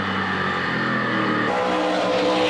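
Stock cars race at the 2009 A&W 300, a loud continuous roar of several engines close by with a sharp shift in tone partway through as cars sweep past, with no talk over it.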